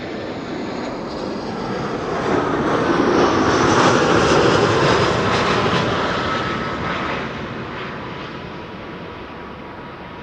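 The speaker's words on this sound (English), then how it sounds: "Air Arabia Maroc arriving from Tangier is now landing." An Air Arabia Maroc airliner lands at Amsterdam Schiphol Airport, its engine roar swelling to a loud peak and then slowly easing off as it passes, steady broadband noise with no voices.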